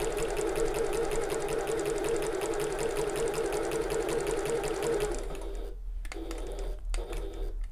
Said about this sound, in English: I'm just going to overlap a couple of stitches at the end.